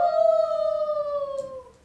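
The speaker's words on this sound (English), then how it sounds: "That's a coyote if I ever heard one." A coyote's howl rings out as a single long, clear wavering tone that slides gently downward and fades over about two seconds, alone and fairly close, with no talking.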